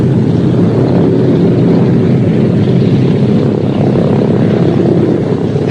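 Boeing B-17 Flying Fortress bomber engines and propellers roar loudly and continuously in a dense, steady drone that fills the whole stretch, with no voices over it.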